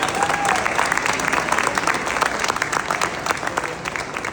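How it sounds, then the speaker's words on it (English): An audience at a senior citizens' celebration gives the county commissioners a steady round of applause, dense clapping from a crowd that stays even throughout. "So let's give them another quick round of applause."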